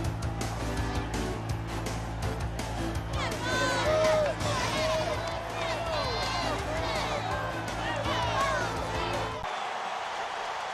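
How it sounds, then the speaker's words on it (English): A large college football crowd at Neyland Stadium for Tennessee versus Air Force in 2006, a continuous roaring murmur of thousands with a band playing beneath, cutting off abruptly near the end. "And a good crowd on hand at Neyland Stadium this evening"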